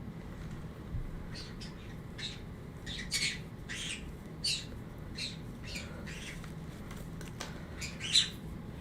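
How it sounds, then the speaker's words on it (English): Pet parrots squawk and scream indoors in a busy home, short harsh calls bursting out every second or so over a steady background hum, one louder shriek near the end. "The birds are screaming."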